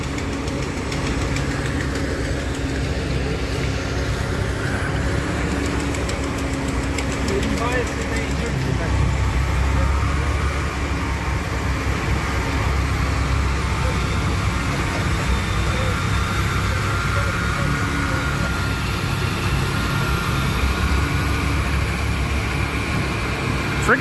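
A Kenworth W900 truck engine idles with a steady, loud low rumble through a snowy Montreal street during snow removal, constant throughout and partly overlaid by nearby talk.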